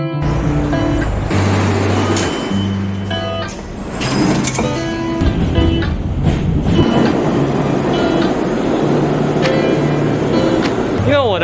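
A New York subway train rides along the tracks during the morning rush, with a continuous loud rumble, clickety-clack of the wheels and metallic squeals, heard from inside the car with faint voices in the background.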